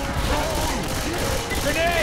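Rapid gunfire from the Left 4 Dead 2 video game, a dense continuous burst of shots with players' voices talking over it.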